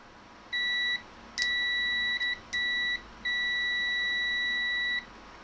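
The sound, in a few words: Klein Tools MM400 multimeter continuity mode beeping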